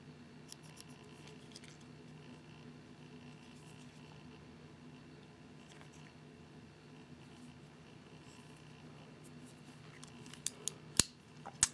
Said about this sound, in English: Not standard Victorinox scissors, kind of wish they were